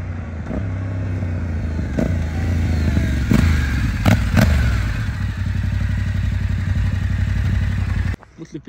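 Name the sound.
Yamaha Tenere 700 2024 motorcycle engine starting and running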